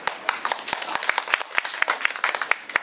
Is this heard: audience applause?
yes